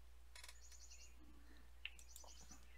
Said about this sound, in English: I can hear the birds chirping on your end.